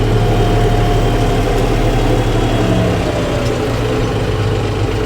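A John Deere 5405 AC cab tractor drags a 7-tine chisel plough through hard field soil. Its engine drones loud, close and unbroken with a deep, steady rumble and no pauses.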